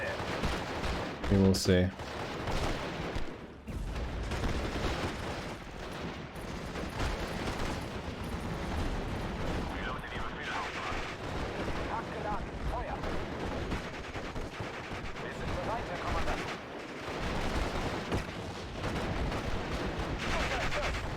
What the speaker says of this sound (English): I'm hoping my machine guns can get the better of the rifles there.